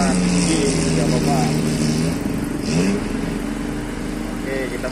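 A motorcycle with a raised exhaust runs through flood water in Banjarmasin. Its close, steady engine drone swells briefly in revs, and voices talk over it.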